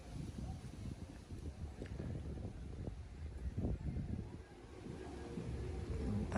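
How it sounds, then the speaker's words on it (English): Steady wind buffeting the microphone high on Mystic Mountain in Jamaica, a continuous low rumbling gust that swells toward the end, with no clear talk over it. "It get windy."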